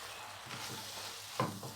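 Onion, pepper and garlic sautéing in a pan make a soft continuous sizzle with light stirring, and a brief utensil clink near the end.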